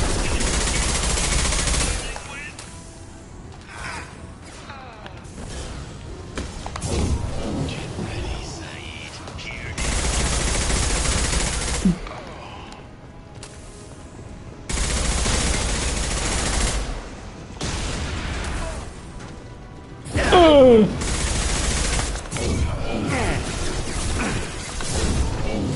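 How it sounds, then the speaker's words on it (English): Heavy bursts of gunfire and concussive shots from a Mass Effect firefight come in repeated loud volleys separated by brief lulls, with scattered mechanical clatter and voices talking in between. "Firing concussive shots"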